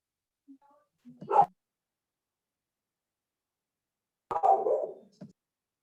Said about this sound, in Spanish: Hay un perrito también, creo